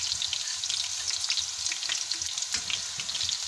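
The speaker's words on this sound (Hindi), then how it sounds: "इसमें हम ज़ीरा ऐड कर देंगे।" Cumin seeds dropped into hot oil with lightly browned garlic and green chilies for masoor dal, a lively close crackling sizzle with scattered pops and light stirring, continuous and alone.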